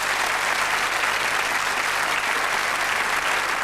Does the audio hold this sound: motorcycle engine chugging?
no